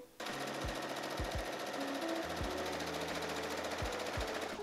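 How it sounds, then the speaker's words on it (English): Sewing machine running continuously as it stitches around the sleeve seam of a dress made from a bed sheet, a steady close mechanical whir with a few low thumps, no talking. "Basically, I'm just going to start from the seam we just sewed, sew all the way around it, and then stop at the other seam."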